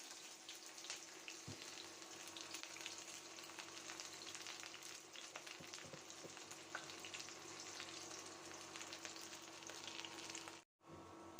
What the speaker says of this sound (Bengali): তেলটা গরম হয়ে গিয়েছে দিয়ে দিচ্ছি পেঁয়াজ